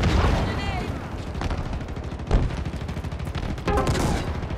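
Halo Infinite multiplayer gunfire cracks out continuously at close range as a dense, loud barrage mixed with explosions and game effects, with an announcer voice heard briefly.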